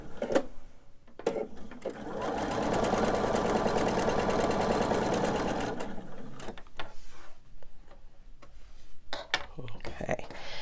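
A sewing machine runs steadily for several seconds, stitching fabric pieces for a fussy-cut candy dish, with softer handling noises and brief clicks before and after the run.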